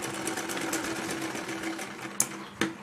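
A sewing machine stitches seams on a fancy baby dress with flower details, running steadily and close for nearly three seconds, its motor whir ending in a few sharp clicks near the end.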